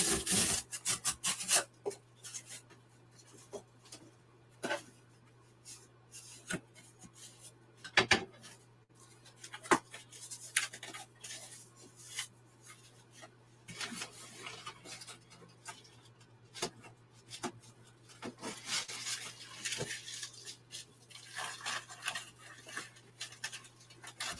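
Hand filing trims down a part in a workshop, a dry rasping scrape repeated in uneven strokes with sharp clicks and knocks between them, fairly close, under a steady low hum and with no talking.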